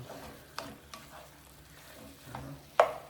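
Cheesesteak quesadilla filling with cream cheese being stirred in a pan, a soft low sizzle with a few scraping spoon strokes, the last one loudest, no talking.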